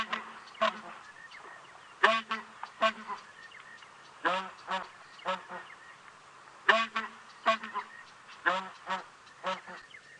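A recorded hornbill call played from a safari vehicle on a sunrise game drive: a series of loud, nasal honking bursts repeating in a steady pulsing rhythm, with quiet bush ambience between the calls.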